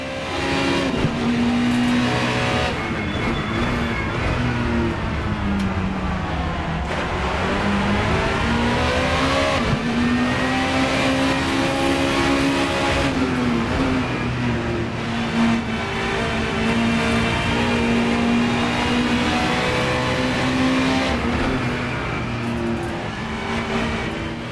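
A race car engine in the racing game Assetto Corsa revs hard and steadily, its pitch climbing and dropping through gear changes across a long stretch of driving, loud and continuous with no talk.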